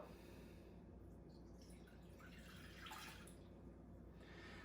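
Water being poured into a pot for a chicken wing brine, a quiet steady trickle and splash at low volume, brightening briefly midway through, with no talking.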